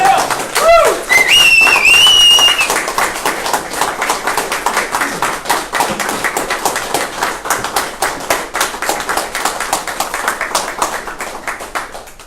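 Audience clapping at an award ceremony for a freshman representative of the year, starting with whistles and cheers and settling into steady, fading applause.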